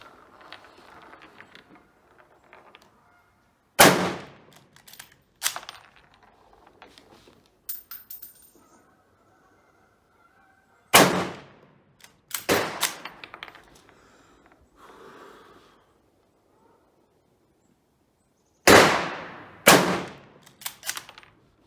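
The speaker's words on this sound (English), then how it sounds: "It's a pleasant rifle to shoot" Rifle shots from an Indian 2A1 SMLE chambered in 7.62x51mm at an outdoor range, three sharp loud reports spaced several seconds apart, each followed by clacking bolt-action cycling and quiet gaps.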